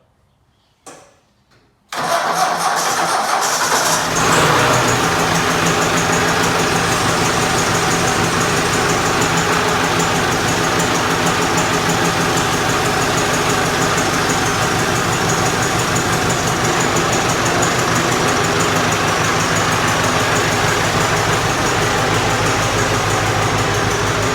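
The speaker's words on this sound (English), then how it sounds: "we'll do a little cold start on it here" A Ford diesel tractor fires up from cold after glow-plug preheating, catching after a brief crank and settling into a loud, steady diesel idle close by, with no talking.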